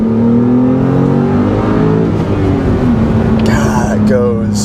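A Porsche 911T (991.2) engine drones loudly at steady revs with a rising exhaust note, then crackles with sharp burbles and pops near the end, heard from inside the car with a voice speaking over it.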